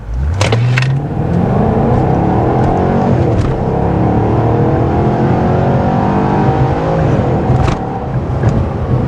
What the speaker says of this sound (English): That engine sings under a load.